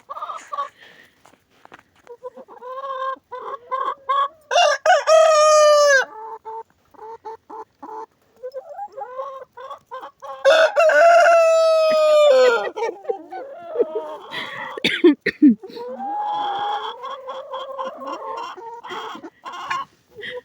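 Several roosters crowing and hens clucking in a village yard, loud and close, with long overlapping crows rising over steady clucking and calls, no talk.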